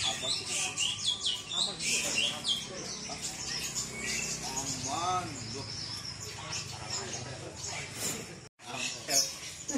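Bright, busy magpie-robin song with rapid chirps and whistled phrases at a bird shop, mixed with someone talking throughout and steady background chatter.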